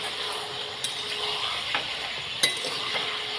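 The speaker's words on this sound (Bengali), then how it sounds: "এবার একটু ভালো করে চিকেনটা নেড়ে চেড়ে নেবো" Chicken with salt and turmeric being stirred in a pan, soft continuous sizzling with a few spoon scrapes and clinks against the pan, close and without talk.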